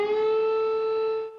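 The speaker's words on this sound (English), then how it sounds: "Sirens sound as explosions are heard moving closer and closer to the country's largest city." Air raid siren wailing in Ukraine, a loud steady droning tone held for over a second before starting to fade.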